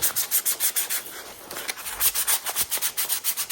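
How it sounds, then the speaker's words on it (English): Wooden china cabinet hand-sanded gently with 180-grit paper, a quick rhythmic series of close, soft scratchy rubbing strokes, about five per second, with no voices. "so sanding these very gently with 180, really not, getting in there at all"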